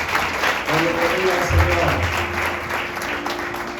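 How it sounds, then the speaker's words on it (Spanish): A church congregation gives a loud, sustained round of applause, with a voice speaking over part of it. "Vamos a darle un fuerte aplauso."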